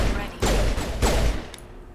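Bursts of gunfire in the Mass Effect video game, two heavy volleys about half a second apart with ringing tails and a sharper crack near the end, fairly loud.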